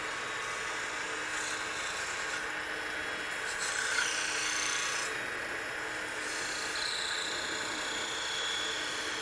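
A fine wire held against a wooden box spinning on a woodturning lathe burns decorative lines, giving a steady rasping, rubbing hiss over the lathe's continuous hum, fairly quiet and with no voices.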